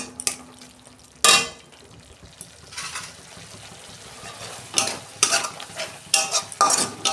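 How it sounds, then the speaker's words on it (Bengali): Masala for a home-style mustard fish curry, with turmeric and curry leaves, stirred in hot oil in a pan: a low sizzle under repeated scraping strokes of a spoon, with louder bursts of stirring near the end. "আমি 2 মিনিট কষতে নেবো মশলাটাকে তেল ছাড়া পর্যন্ত"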